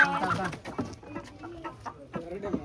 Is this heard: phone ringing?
no